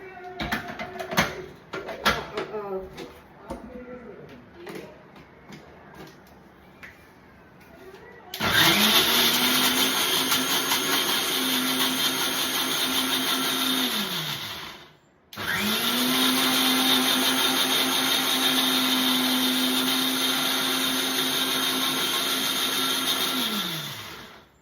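Electric blender mixing cheesecake batter: after some handling noise and talk, two long loud whirring runs spin up and wind down, separated by a brief pause.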